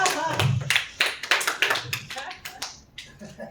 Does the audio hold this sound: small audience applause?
yes